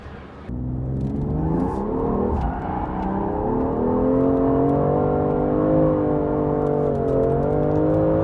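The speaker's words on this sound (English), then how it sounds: "you don't often see a GT2 RS at a drift night" Porsche 911 GT2 RS drifting at a Sydney Motorsport Park drift night, engine note rising and holding a loud sustained whirring drone as the car slides, with a rough revving texture and no talk.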